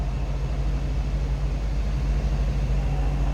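A 1997 Jaguar XK8 convertible engine idles with a steady low rumble, quietly and evenly, close by, with no voices over it.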